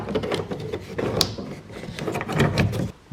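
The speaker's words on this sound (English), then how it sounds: "now this door card should come right out" A Honda car door card being worked loose by hand, a run of close plastic scraping, creaking and knocking as the trim panel is pried from its clips, with one sharp snap partway through.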